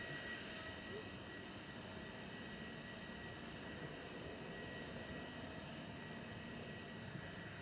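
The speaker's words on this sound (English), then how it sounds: "So we've got Pegasus just come across 23 right for departure." Pegasus airliner departing runway 23 right at Manchester Airport, its engines a steady, distant broadband roar that holds evenly throughout, with no talk over it.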